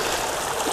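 Turbid, murky creek water flows steadily, a close continuous rushing burble with no voices.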